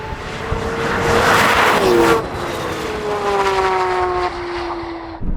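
A Porsche 911 GT3 RS and a Maserati MC20 race, engines howling loud and close with rising and falling tones, a sharp downshift midway and a fresh climb in pitch after it.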